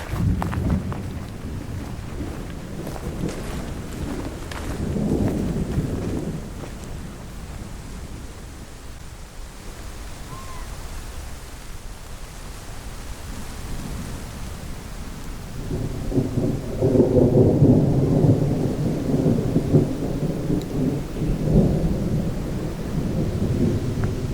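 Steady rain hiss with deep rolling thunder rumbles, one early and a longer, louder one later, distant and broad, outdoors on a slope.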